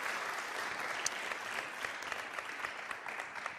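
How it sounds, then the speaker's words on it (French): Faint studio audience applause on a French-language TV quiz show, a steady wash of clapping from the crowd with a few sharper individual claps, heard at a distance. "Vous pouvez les applaudir encore une fois."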